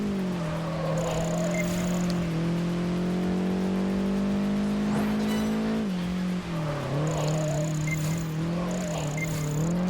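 A car in Project Gotham Racing 4 drifts with a steady, loud engine drone. Revs climb slowly, dip at shifts and waver as it slides, with intermittent high tire-squeal whines over it and no talk.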